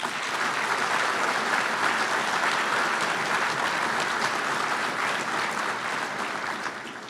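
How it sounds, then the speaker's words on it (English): A banquet audience at a Marine Corps Association installations and logistics awards dinner gives sustained applause for the event organizers, an even wash of many hands clapping at moderate level with no talk over it. "if we could just give them a round of applause"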